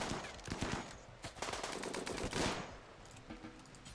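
A turret in the colony game Rimworld set in an extreme jungle fires rapid bursts of machine-gun shots, with dense fusillades separated by short pauses and no voices.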